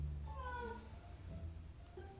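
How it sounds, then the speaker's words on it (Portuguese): A female house cat meows indoors, a couple of faint, drawn-out calls heard at a distance in a quiet room. "Minha gata tá ali miando"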